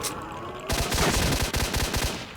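Rapid automatic gunfire in S.T.A.L.K.E.R. Shadow of Chornobyl Enhanced Edition as a creature attacks, with loud, close bursts of shots in a quick, uneven rhythm that start abruptly and continue to the end, with no voices.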